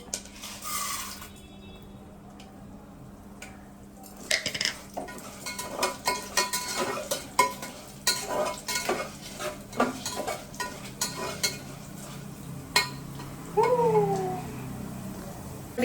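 A metal spoon scrapes and clinks against a pan while chana dal and urad dal fry over a soft sizzle, the stirring coming in irregular close taps, and a cat meows briefly near the end.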